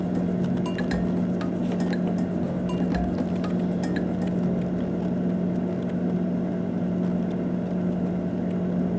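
Beans, cabbage and carrot being sautéed in a pot over a strong cooking hum, with clinks and scrapes of a spoon against the metal, busiest early on, and no talk.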